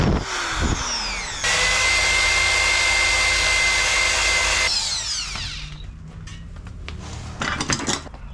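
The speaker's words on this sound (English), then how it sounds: "I'm trying to clean up this diff. Underneath, she's pretty old and crusty. So let's give it a wire wheel," A wire wheel on a power tool grinds against an old, crusty vehicle differential, a loud sustained high-pitched whine that cuts off and spins down, followed by a few clanks.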